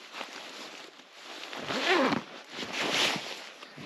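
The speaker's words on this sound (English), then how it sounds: "Zip them up, and you are good to go." A zipper runs up a pair of full-zip Mountain Hardwear down pants in two or three rasping pulls, close and clear over a faint background hiss.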